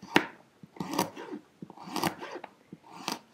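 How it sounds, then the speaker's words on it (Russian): A knife chops potatoes into rectangles on a cutting board in a few uneven strokes, close and fairly crisp, with quiet gaps between cuts. "вот такими прямоугольничками мы нарезаем картошку"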